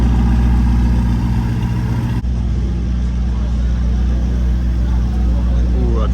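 A car with an aftermarket exhaust idles at a deep, steady burble, loud and close, with a brief dip partway through and faint background sounds around it.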